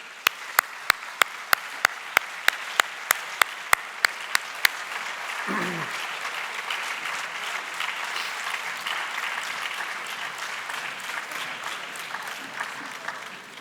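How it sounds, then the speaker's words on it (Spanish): Audience applause at a building-certification session on blower door good practices, a dense wash of clapping that runs steadily throughout, with a few sharp close claps standing out in the opening seconds. "Y damos un aplauso."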